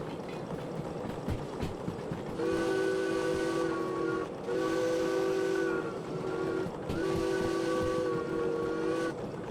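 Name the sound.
train running in video game Derail Valley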